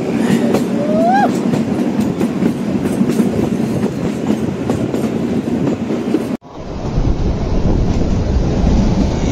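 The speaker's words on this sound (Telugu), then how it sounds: "ఈ చెట్ల మధ్యలో మన రైలు ప్రయాణం" The Kalka-Shimla toy train rolls through wooded hills with a steady rumble and clickety-clack of wheels, a brief squeal early on, then the sound abruptly changes as it enters a long tunnel, loud and close.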